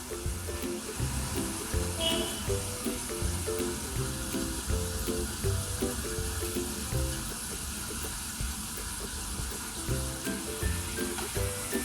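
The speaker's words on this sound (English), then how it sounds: "We will continue to fry for a few more seconds and take them out." Homemade potato chips fry in hot oil, a soft continuous bubbling sizzle with light clinks, heard alone at low level.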